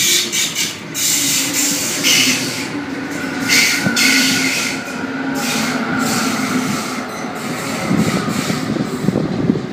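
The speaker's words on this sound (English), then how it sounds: "Waratah approaching platform 1 City Circle service." A Sydney Trains Waratah set arriving at a station platform on a City Circle service, a loud continuous rumble of wheels and motors with rising whine and rattling carriages, close and steady throughout.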